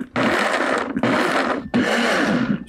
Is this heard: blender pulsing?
yes